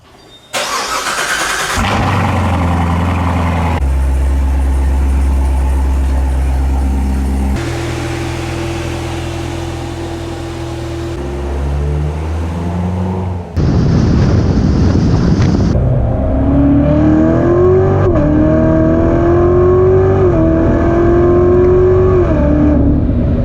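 A Chevy C7 Corvette in Blue Fury drives along, its engine loud and close throughout. A deep low rumble starts the run, then the note climbs through rising gear pulls with steady wind and road noise behind it.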